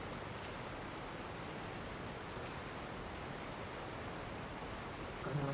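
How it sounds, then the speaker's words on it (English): A waterfall rushes in Genshin Impact, a steady, even roar of falling water that stays constant and fairly soft throughout, with no voices. "the waterfall. That's the sound."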